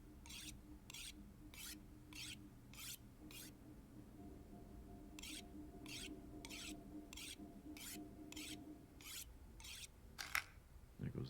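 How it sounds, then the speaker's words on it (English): Blade sharpened on a whetstone in the survival game The Long Dark, a series of evenly spaced rasping scrapes, a pause, then another regular run of strokes over a quiet low hum. "Use up this whetstone."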